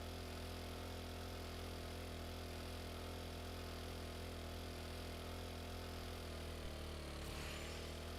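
A mini bike engine runs steadily in the survival game 7 Days to Die, a continuous faint mechanical drone with a slight shift near the end, with no talking.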